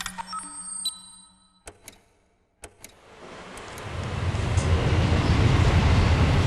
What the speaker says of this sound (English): Metro trains passing this region seemingly experience no changes in traffic flow.